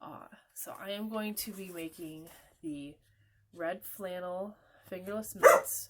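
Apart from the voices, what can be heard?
dogs barking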